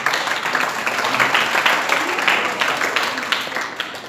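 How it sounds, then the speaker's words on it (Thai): Applause at a youth training camp, steady crowd clapping that continues evenly throughout at moderate loudness. "ขอเสียงปรบมือดังๆให้กับกิจกรรมนี้ครับ"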